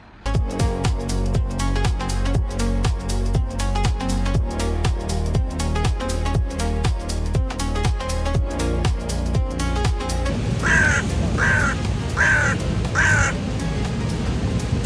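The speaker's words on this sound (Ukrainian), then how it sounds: "Що ти ореш, ворон?" A crow on a street in Sofia gives four harsh, evenly spaced caws near the end, loud and close, after a stretch of dense, rhythmic background sound.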